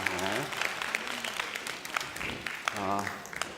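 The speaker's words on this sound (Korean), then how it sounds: "우리 프로에게 박수 한번 부탁드리겠습니다." A church youth-service congregation breaks into sustained applause, a dense steady patter of many hands clapping throughout, with a few louder individual claps standing out.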